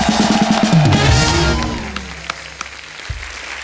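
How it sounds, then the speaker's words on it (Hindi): Studio audience applause for actress Aruna Irani on a Hindi comedy talk show, loud at first and fading away within a couple of seconds under music. "जोरदार तालियां अरुणा जी के लिए।"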